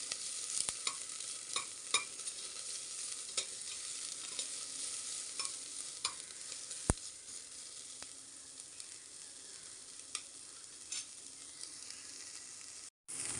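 Onions sautéing in a pan, a constant bright sizzle under repeated light scrapes and taps of a stirring spoon against the metal, steady and close, with no talking.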